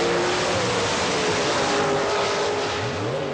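A 1984 IHRA Winston Springnationals drag race, where Pro Stock cars, one called the Home Wrecker, roar down the strip with a sustained loud, high-revving engine scream and a brief rising whine, dense and continuous throughout.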